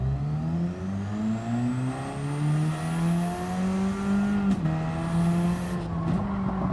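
A Gr.4 race car at Trial Mountain in Gran Turismo drives toward the pit, its engine droning steadily with rising pitch as it accelerates, then briefly dropping at gear shifts, loud and continuous without talk.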